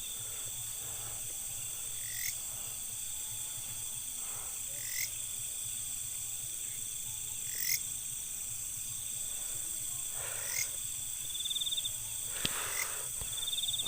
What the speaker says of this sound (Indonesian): Apalagi mendengar suara-suara jangkrik yang kayak krek.